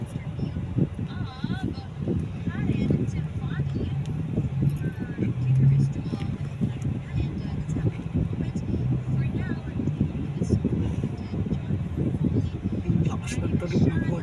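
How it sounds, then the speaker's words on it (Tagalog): Loud rumbling exhaust of a car with an enlarged muffler while driving, a steady low drone heard from inside the cabin with people talking over it. "Lakas ng tunog ng kotse. Lalaki ng tambutso eh."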